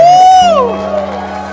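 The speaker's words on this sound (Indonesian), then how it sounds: "Kasih tepuk tangan yang terbaik buat Tuhan." Church congregation cheering and whooping loudly right after a worship sermon, a bright sustained shout at the start fading into crowd noise with a low steady hum beneath.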